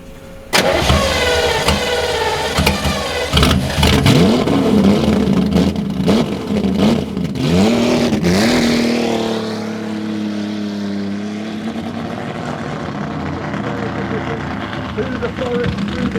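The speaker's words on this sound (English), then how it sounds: "Let's make loads of noise for this very noisy car. Ladies and gentlemen, the European Touring Car Championship winning car" European Touring Car Championship winning race car at a Jaguar enthusiasts' summer festival at Newby Hall, its engine firing up and revving loudly in repeated rising and falling bursts before settling to a steady idle, with a crowd and announcer talking around it.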